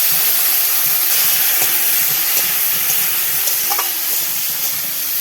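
Chopped onions, potatoes and green banana sizzle in hot oil in a pan for a village-style curry, a steady close hiss with small crackles and occasional clinks, no talking.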